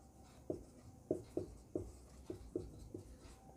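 A pen writes on paper while a math problem is worked out, giving a series of crisp, evenly spaced scratches and taps about every half second, quiet and close, with no talking.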